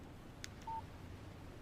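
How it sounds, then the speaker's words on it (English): A short electronic phone alert tone for an incoming text message in the video game Alan Wake Remastered, a single brief beep heard alone over faint background hiss. "message from Barry"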